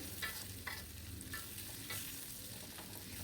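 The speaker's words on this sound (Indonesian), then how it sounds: "Langsung aja dicampur cabai dengan tomat dan juga semuanya. Dicampur seperti ini, ditumis atau digoreng." Green chili and tomato sauté in a pan for Padang-style green sambal, with a soft continuous sizzle and a few scraping stirs of a spatula at a moderate, fairly quiet level.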